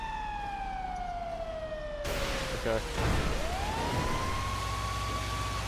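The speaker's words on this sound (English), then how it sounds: "I turned off my siren." A police car siren in GTA V winds down in a falling wail, cuts into a burst of traffic noise, then rises again into a steady tone under street rumble, with a voice briefly speaking.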